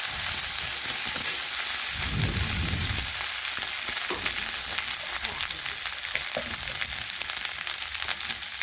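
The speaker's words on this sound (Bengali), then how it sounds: "তো দেখুন বন্ধুরা একটু ভালোভাবে মশলার সাথে টমেটো ভেজে নিচ্ছি" Tomatoes and spices fry in oil in a pan over a home cooking stove, giving a steady, close sizzle that runs throughout, with a brief low stir or thump near the start.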